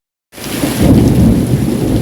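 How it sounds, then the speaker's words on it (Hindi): Heavy rain pours steadily in Raipur, Chhattisgarh, as thunder rumbles and cracks through a loud, dense thunderstorm, with no voices present. "इतनी तेज़ बारिश में देखिए बादल की आवाज़ सुनिए, बिजली इतनी तेज़ कड़क रही है ना"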